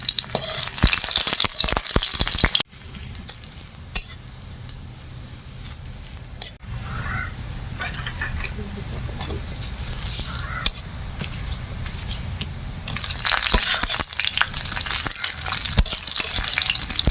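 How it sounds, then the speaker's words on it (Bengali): Onion hits hot spiced oil in a pan, a loud crackling sizzle that drops abruptly, continues as a softer steady frying with stirring scrapes, then swells louder again toward the end. "ফোড়ন দিলাম, পেঁয়াজটা দিয়ে দিই।"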